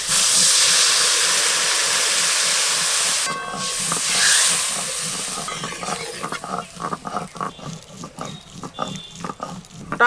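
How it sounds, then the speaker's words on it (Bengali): Water poured into a hot pan of fried raw mango with turmeric and chilli bursts into a loud, close steam hiss. The hiss fades after a few seconds into softer bubbling and irregular stirring knocks. "এবার জল দিয়ে দেবো।"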